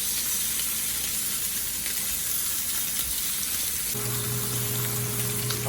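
Wagyu ribeye steaks sizzle in a hot pan, a loud, dense and continuous hiss that holds evenly throughout, heard close up with no talking.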